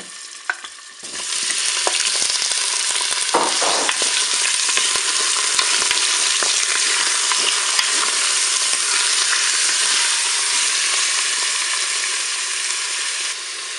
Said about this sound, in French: je vais commencer à faire revenir mes tranches de filet mignon